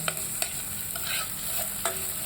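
Mushroom curry being stirred in a frying pan, with a steady sizzle and fry underneath and a few distinct scrapes and clacks of the spoon against the pan, close up and with no talking.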